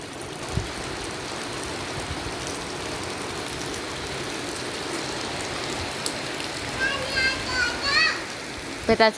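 Steady rain hisses over a low engine idle, with a few faint chirps and knocks near the end; no clear speech.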